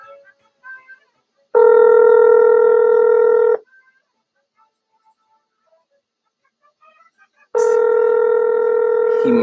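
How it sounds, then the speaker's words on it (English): Two long electronic telephone tones, each about two seconds, sound loud and close with a pause between them, as a phone call is placed to an award winner. "I'm gonna make a phone call to the winner here"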